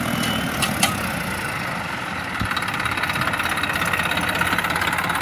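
A tractor engine idles on a large farm field, a steady low chugging drone close by with a couple of brief knocks near the start.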